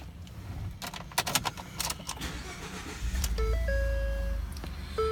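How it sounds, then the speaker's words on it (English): A 2013 Ford F150 pickup truck with about 82,000 miles starting with a key: several clicks and rattles, then the engine cranks and catches into a loud, steady idle close by, with a chime ringing over the running engine. "I'm going to start this truck for you."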